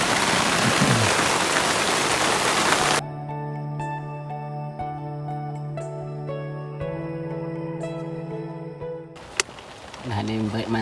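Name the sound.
heavy rain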